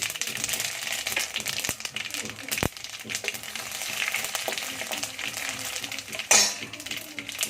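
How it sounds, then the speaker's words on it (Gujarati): Sesame seeds crackle and sizzle in hot oil for a tempering, a steady fizzing spatter with a few sharp utensil clinks and one louder clatter near the end. "તલ થોડા ચપકે એટલે આપણે લીમડો લઈ લેવાનો છે."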